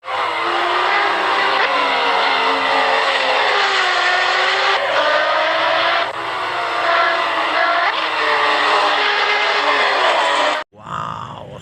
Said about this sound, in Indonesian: balapan dengan mobil sport